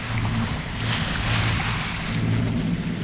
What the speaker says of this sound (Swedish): Och vi får gå för motor,